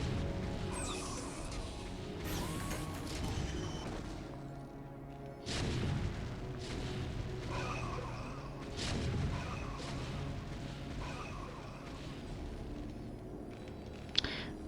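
StarCraft carrier interceptors being shot down by turrets in the video game, a dense run of overlapping booms, crashes and zapping impacts at moderate loudness, with sharper bursts scattered throughout.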